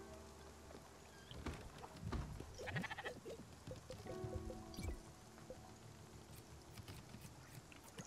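Sheep bleat in the video game Spiritfarer, a few short, fairly clear calls over a steady low game ambience with soft background tones.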